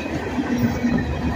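An empty freight train of tank cars rumbles steadily past nearby, heading north downhill in Abbeville, a low continuous rolling drone with faint metallic wheel noise.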